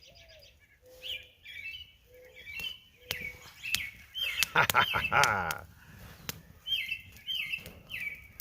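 Birds chirp and call in short repeated phrases on a cool Minnesota morning beside a campfire, fairly close and clear, while a man laughs and a burst of crackling noise rises midway.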